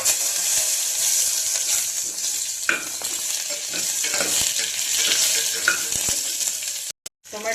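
Chopped onions with cardamom and spices fry in hot oil for mushroom pulav, a steady close sizzle with occasional stirring scrapes, cutting out briefly near the end.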